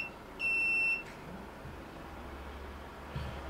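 A Kontakt GSM 2 radio-channel alarm panel gives one loud, sustained electronic beep of about half a second when disarmed with a key fob, followed by quiet room noise and a soft click.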